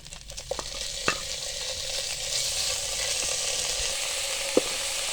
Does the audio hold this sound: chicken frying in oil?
yes